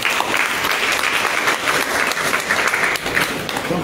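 Church congregation clapping and cheering for Jesus Christ, a dense, continuous burst of applause at close range with a faint hint of voices mixed in.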